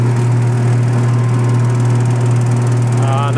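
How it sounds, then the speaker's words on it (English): A Bokashicycle food waste pulverizer machine with an empty hopper runs with a steady, loud motor hum and constant mechanical drone, unbroken throughout and heard alone. "So I'll turn it on, we'll get a little bit of a humming noise, and you'll hear what the engine sounds like"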